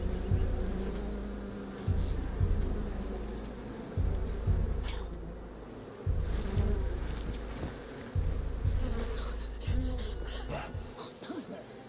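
A swarm of bees drones steadily in A Plague Tale: Requiem, a loud continuous buzz pulsing in waves roughly every two seconds, with no talk in the clip.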